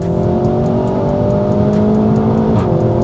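SEAT Leon Cupra 300 engine pulling hard in third gear on a wet road, a loud rising engine note that climbs steadily and briefly dips near the end, close and alone.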